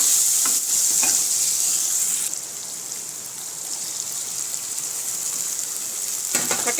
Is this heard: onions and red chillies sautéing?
yes